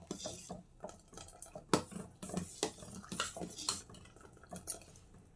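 Sago and dal being stirred in a metal pot for payasam, a spoon knocking and scraping against the pot in quick irregular clinks, close and fairly quiet, no talk.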